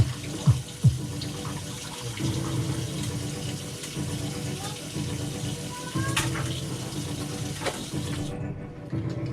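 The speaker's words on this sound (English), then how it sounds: "Now we're just rinsing them, as you can see, in cold water." Cold tap water runs steadily over cooked green tea soba noodles in a sink, a continuous splashing rush with a few clunks near the start, then cutting off at the end.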